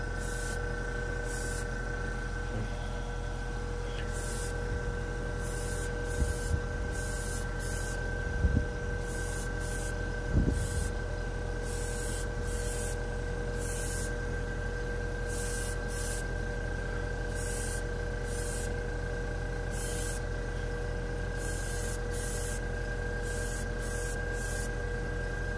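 A Badger 105 Patriot airbrush sprays paint in repeated short bursts over a steady hiss and background hum, the bursts fairly quiet and evenly spaced.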